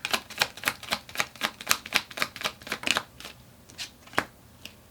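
Tarot cards are shuffled and drawn, making a rapid run of crisp, close riffling snaps that slow into a few separate flicks near the end.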